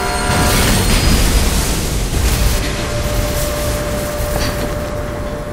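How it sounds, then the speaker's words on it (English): A subway train rushes past in a tunnel in Mirror's Edge, a loud, dense roar with broadband rumble and rattle sustained from start to finish, no voices over it. "There's a train coming behind you."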